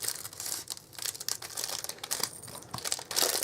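Close crinkling and rustling as candle gift wrap paper is gathered up by hand, a continuous crackle with uneven surges over about three seconds.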